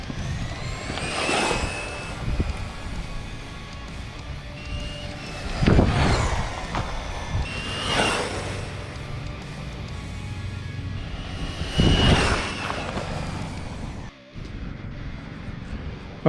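A Traxxas Drag Slash RC car on a 2S LiPo battery makes repeated drag passes, each a rising, whining motor burst that swells and fades at roughly two-second spacing, loud and close over steady outdoor background noise.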